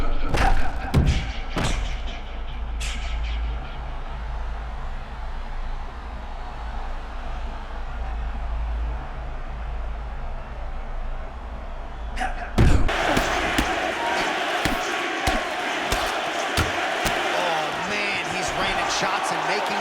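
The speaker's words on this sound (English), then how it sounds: "He's postured up, and he is landing through ground and pound." Ground and pound punches in a UFC 6 video game fight, heard as heavy thuds and slams at the start and again around the middle. A continuous crowd roar carries underneath, and a commentator talks over it.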